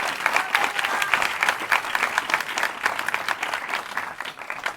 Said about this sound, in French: je pense qu'on peut encore une fois applaudir Léa Druet pour son discours